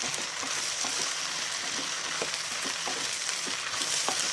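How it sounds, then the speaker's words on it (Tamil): White pumpkin (ash gourd) stir-fried in a pan for a vegetable kuzhambu: a soft, fairly quiet sizzle with light, irregular ticks and scrapes from stirring throughout, no speech. "கடியாங்காய் அதான் வெள்ளை பூசணி இதை போட்டு ஒரு கிண்டி கிண்டிக்கலாம்"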